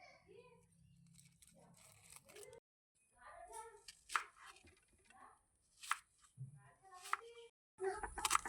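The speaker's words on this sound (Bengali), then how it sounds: "পেঁয়াজগুলো টুকরো টুকরো করে 1/2 করে কেটে নিচ্ছি।" Peeled onions being chopped into pieces with a knife on a board, a run of sharp close knocks in bursts separated by short pauses.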